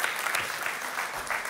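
A church congregation claps loudly together, a dense, continuous wash of applause throughout with a faint voice mixed in underneath.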